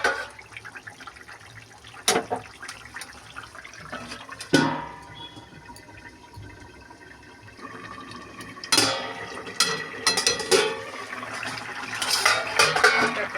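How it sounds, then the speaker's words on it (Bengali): A lid clanks onto a pot of rui fish curry with cauliflower, kohlrabi and potato, giving a few sharp metallic knocks and rattles between softer bubbling and kitchen handling sounds; no talk. "2 মিনিটের জন্য একটু ঢেকে দেবো যাতে মাছটা ভালো করে ফুটে যায়।"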